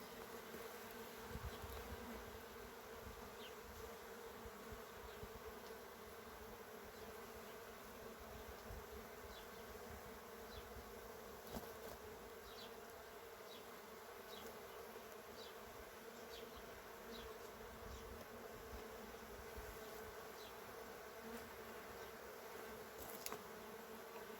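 Steady, dense buzzing of many bees around an opened hive fills the whole stretch, a continuous close drone with no voices.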